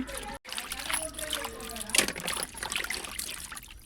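Water trickles and splashes nearby as fish are rinsed, with soft handling sounds and a voice speaking over it.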